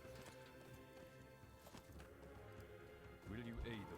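Horse hooves clip-clopping at a steady riding pace in Lord of the Rings Online, a rhythmic run of footfalls under a low game soundtrack, with a brief whinny-like sound near the end.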